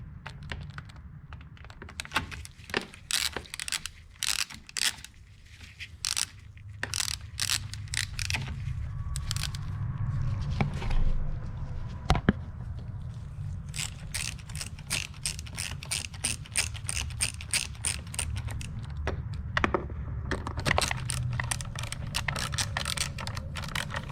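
Screws being tightened into the plastic air filter box of a Kia Optima 2.0L four-cylinder, a rapid series of close ratcheting clicks and mechanical ticks running steadily throughout with no talk.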